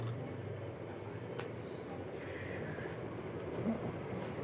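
Train on the Nandyal railway line near Srisailam, a steady low rumble of rolling stock heard at a distance, with faint mechanical hum and no clear clatter.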